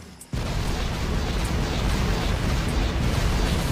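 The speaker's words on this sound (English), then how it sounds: "Grenade time." A grenade blast in Factorio erupts after a brief quiet moment, then a dense, loud rumbling roar of explosions continues without pause.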